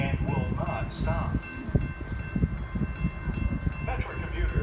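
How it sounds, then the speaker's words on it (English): A Metra express commuter train rumbles past a station at Riverside, Illinois without stopping, a loud close roar with wheel clatter. A platform announcement plays over it. "The next Metro train approaching your station will be a Metro Express train and will not stop."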